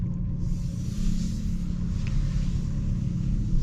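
A 2025 Porsche Cayenne E-Hybrid idles after start-up, a steady low engine rumble close by with a faint rise in revs, heard alone without talk.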